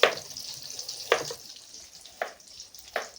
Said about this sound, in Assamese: অলৰেডি মাছ ফ্ৰাই হৈ গ'ল